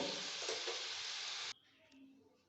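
Semolina langcha sweets frying in hot oil, a loud close sizzle that cuts off abruptly after about a second and a half, followed by faint quiet clatter.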